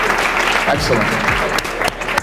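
Graduation audience applauding school staff and leadership, a dense, loud, continuous burst of clapping with a voice briefly heard over it.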